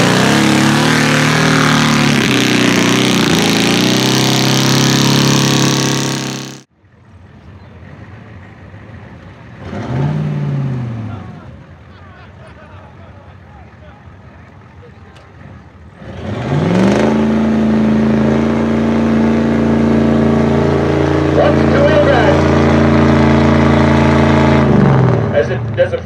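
Chevy truck engines revving hard at a Richland Center, Wisconsin redneck hybrid rally in 2014, loud strained roaring bursts at the start and end with a quieter stretch between, people talking over it.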